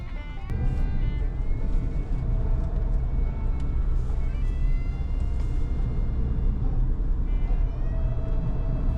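A GWM Haval H6 hybrid SUV drives on a track, with a steady engine and road drone from start to finish and faint tonal whines drifting above it.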